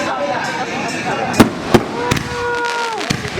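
Legal consumer fireworks fire off in a rapid sequence: a few sharp, loud bangs and crackles burst out one after another over a steady outdoor background, with people talking around them.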